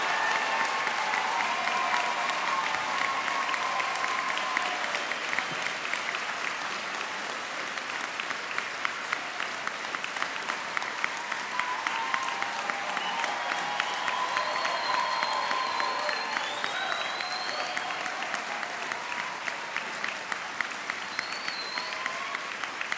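Convention audience applauding a round for people who were lost, a sustained, dense wash of clapping from a large crowd that runs steadily throughout, with no talk over it.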